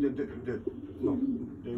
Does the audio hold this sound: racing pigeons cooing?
yes